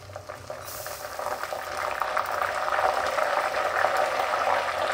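Ghee in a hot pan crackles and splutters where water has hit it, a dense, steady sizzle that builds slightly and keeps going with no voices.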